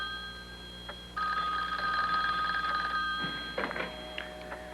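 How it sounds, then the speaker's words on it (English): An old telephone rings in a house, a bright electronic trill starting after a quiet moment and holding steadily for a few seconds before tapering, heard fairly close in a still room. "Their phone began to mysteriously ring."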